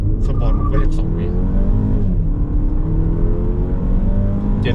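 BMW X1 sDrive20i M Sport accelerating hard in sport mode, a steady loud engine drone rising in pitch through the run and heard from inside the cabin, with someone talking over it.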